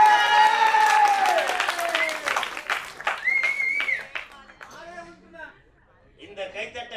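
Applause from an audience at a Tamil film pooja launch event, loud at the start and thinning out, mixed with a voice speaking over it.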